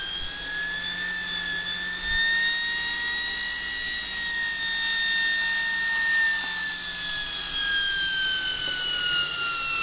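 A homemade universal pulse motor rotor spins at speed, giving off a steady high-pitched electric whine with layered tones that holds constant and loud throughout, with no voices.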